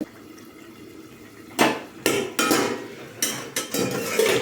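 Clanking metal strikes on a cooking pot of egg and drumstick curry as a lid is handled and set down, several sharp bangs and scrapes over a quiet background, no speech.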